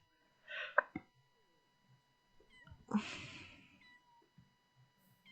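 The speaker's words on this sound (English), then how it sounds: "We're gonna get a look at this cute kitten." A small kitten in a video game meows twice in quick succession, high and thin, with a longer drawn-out cry a couple of seconds later, close and otherwise quiet.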